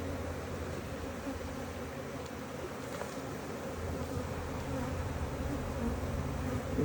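Honeybees drone steadily and continuously during a hive split, a dense close buzzing that fills the whole stretch without pause.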